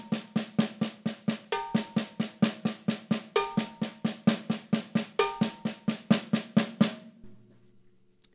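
A steady stream of paradiddle strokes on a snare drum, with occasional accented notes moved onto a cowbell, rapid and even for about seven seconds before stopping, with no voice over it.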